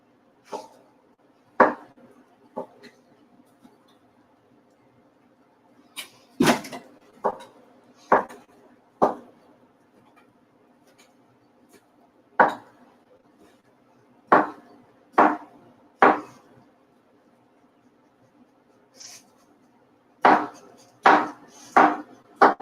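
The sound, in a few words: chopping food on a cutting board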